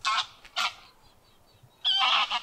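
Geese honk loudly in a nature reserve in rural Germany, three short bursts of calls with a quiet pause between them, fairly near and with no talking.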